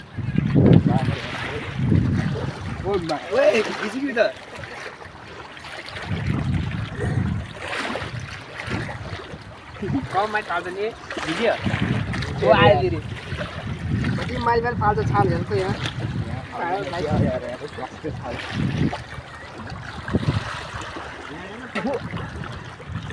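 Sea waves rush ashore on a Kuwait beach in repeated washing surges, with wind noise and people talking over them at close range.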